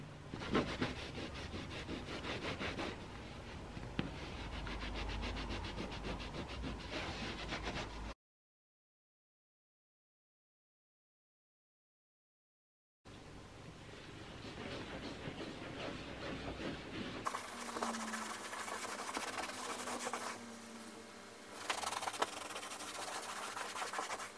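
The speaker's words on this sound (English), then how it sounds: "just take a little bit of the cleaner with the toothbrush and just in circular motions" A toothbrush with cleaner scrubs a thin carpet in quick, continuous rasping strokes, close and steady, broken by a pause of several seconds before the scrubbing resumes with a low background hum.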